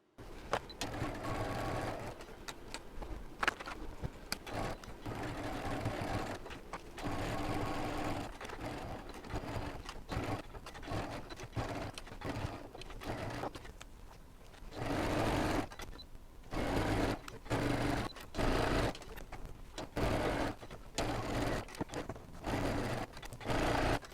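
Domestic sewing machine stitching through a quilted Nantucket pouch, running in repeated bursts with short pauses between, close and steady, with no talking.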